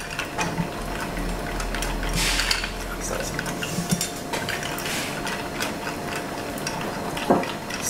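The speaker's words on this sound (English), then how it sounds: "I don't want to be stood here for about half an hour while I stir this first drink of the day" Ice and a bar spoon clink and rattle steadily in a mixing glass as a Tuxedo #2 cocktail is stirred, a close, busy metallic-glassy jingle running throughout with occasional sharper knocks.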